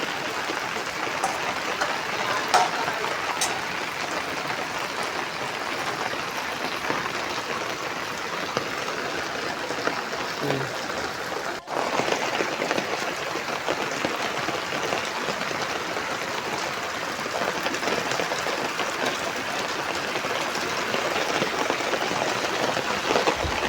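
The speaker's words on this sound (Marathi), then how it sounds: "गेले आमच्याकडे 8 दिवस झाले असा पाऊस चालू आहे." Heavy monsoon rain over a village, roaring in a constant, broad wash of sound that barely changes over a long stretch, with no voices.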